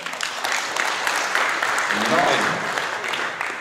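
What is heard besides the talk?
applause at rally awards ceremony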